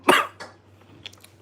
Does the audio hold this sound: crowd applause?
no